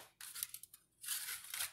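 Scissors cut through thin copper sheet in two close, crisp runs of snipping and crunching, separated by a brief pause, with no talking.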